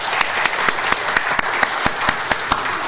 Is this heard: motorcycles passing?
no